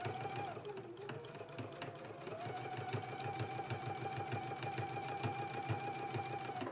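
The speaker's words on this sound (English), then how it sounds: "now we can go ahead and stitch really close to this pressed edge of the lace" A sewing machine stitches lace onto a dress collar, its needle running in a steady, rapid mechanical rhythm with a constant motor hum, loud and close, with no pause throughout.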